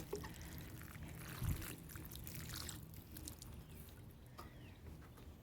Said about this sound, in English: It started to rain here in Florida.